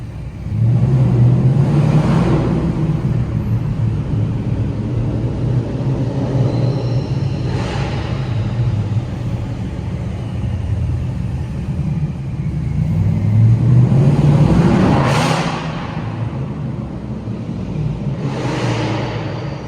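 A steady turbocharged Mustang 5.0 engine rumble with a rising, jet-like turbo whine that swells twice, loud and close, with no voices.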